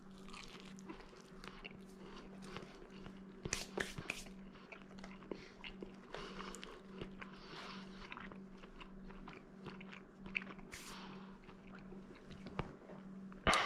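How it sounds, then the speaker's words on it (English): Crisp bites into a thin crust cheese pizza cooked in an Ooni Koda 16 give sharp, close crunches scattered across the stretch, with quiet chewing between them and little talk. "let's get a little crispy guy over here. And listen to that crunch."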